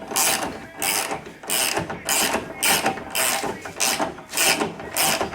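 Ratchet wrench clicking in rapid bursts while working on a Polaris RS1 ATV in a garage, about seven repeated loud ratcheting strokes close by with short pauses between them, no voices.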